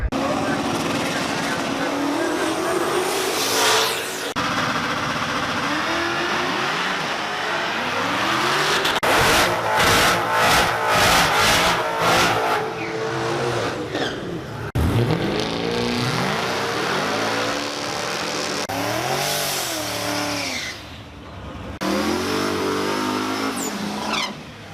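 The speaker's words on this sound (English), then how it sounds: "So sounds like drag racing is going on." Drag racing cars at LS Fest in Bowling Green, Kentucky, run by LS-powered muscle cars: loud engines rev hard and launch, with a burst of rapid rhythmic revving mid-clip, crowd noise and occasional talk underneath throughout.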